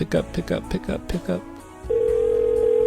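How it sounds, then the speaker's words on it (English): A telephone call to a brothel connects and rings out: after a few seconds of someone talking, a steady electronic ringback tone sounds, loud and unbroken. "Pick up, Mona"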